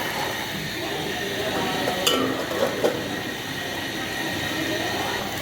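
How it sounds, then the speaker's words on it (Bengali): Meat and small potatoes are stir-fried in a pan, making a steady, loud sizzle with a few metallic clinks from stirring partway through. "এখন আমি দিয়ে দিব আলু, একটু বেশি ছোট আলু"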